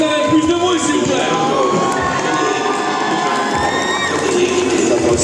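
A convention audience at Kamo Con in Dijon cheers, shouts and claps loudly and continuously as actors arrive on stage, a dense crowd roar with children's voices mixed in.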